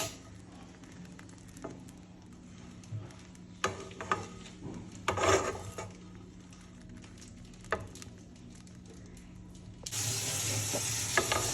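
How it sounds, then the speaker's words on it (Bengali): Sliced bread toasting in a dry pan over medium heat, with a soft, low crackle and intermittent scraping stirs, ending in a louder, steadier hiss. "তারপর আমি এই কেটে রাখা ব্রেডগুলোকে একটুখানি ভেজে নেব।"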